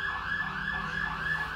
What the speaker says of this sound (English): There's a lot of police car and ambulance coming next to my building.